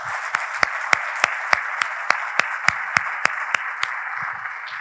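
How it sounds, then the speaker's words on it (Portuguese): Church congregation applauding the worship team after a praise segment: sharp, evenly spaced claps ring out over a steady bed of crowd noise, fairly close and loud throughout. "Vamos aplaudir o nosso ministério de louvor,"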